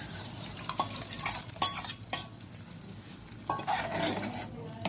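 Mashed toor dal being stirred into wilting spinach in a pot for palak dal, with several scraping, clinking strokes of a spoon against the vessel and a faint sizzle underneath, close by.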